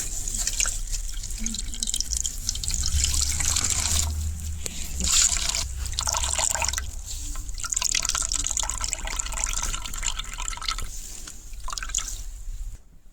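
Juice drips and trickles as carrot paste is squeezed through a net by hand, a close wet patter running continuously, with a voice now and then.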